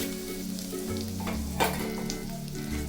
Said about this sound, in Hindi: अभी ये तड़का हम हमारे इडली के बैटर में डालेंगे